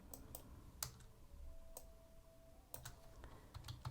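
Someone types on a computer keyboard, producing quiet, scattered key clicks in irregular bursts against a low background hum.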